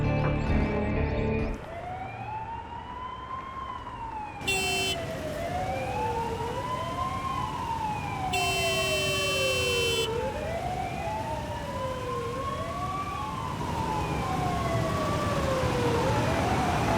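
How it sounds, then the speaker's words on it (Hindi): An ambulance siren wails continuously in rising and falling sweeps, loud and close, layered with a second overlapping siren tone and short bursts of a higher electronic signal, with no talk. "एम्बुलेंस"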